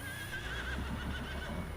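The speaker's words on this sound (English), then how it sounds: "Try not to run over the horses." Horses in the video game Farming Simulator 19 whinny over a steady farm ambience, with a drawn-out neigh early on and fainter hoof clops and animal noises continuing underneath.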